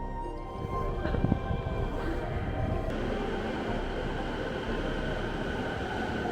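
A train in Tokyo, Japan rolls along with a steady rumbling drone, a brief brake squeal and clatter early on, then a continuous even hum of a moving railcar heard from inside.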